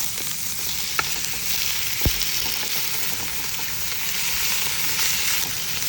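Chicken for chow mein sizzles and crackles steadily in a pan on high heat, with a couple of sharp clinks of a utensil against the pan.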